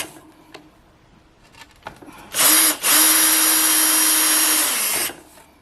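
Power drill center drilling holes in a 1932 hot rod dash panel for gauges, a brief whir then a sustained loud, steady high-pitched drilling run, preceded by a few light clicks.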